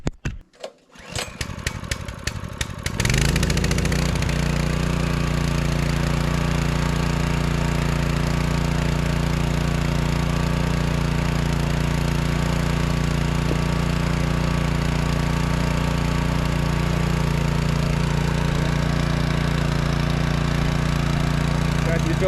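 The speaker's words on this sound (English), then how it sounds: "I'm gonna try to get this pump running and the pond filling" Small engine of a water pump filling a gold mine pond, pulled and sputtering to life after a few seconds, then droning steadily and loudly close by without letup.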